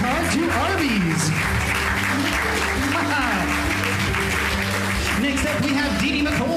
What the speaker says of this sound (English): Let's give a round of applause for our stagehands coming on down to win their prize.